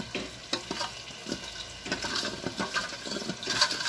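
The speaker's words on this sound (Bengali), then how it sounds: "জল দিয়ে এবার এটাকে মিক্স করবো" Batter mixed with water in a bowl, giving close, wet, sloshing stirs and soft spoon clicks in an irregular rhythm.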